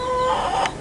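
Chickens cluck in a backyard chicken area with adult hens and baby chicks, a close steady clucking with a brief sharper call near the end, heard alone.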